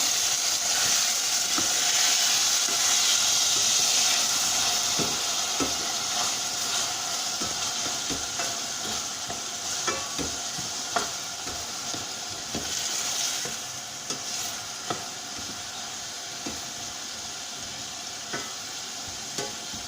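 Onions sauté in a pan with a steady sizzle and hiss, while a utensil stirs them in intermittent soft scrapes and taps, heard up close and without voices.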